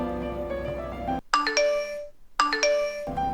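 A telephone rings out during a call being placed, with two clear electronic ring bursts separated by silence, loud and close, following a stretch of tonal music.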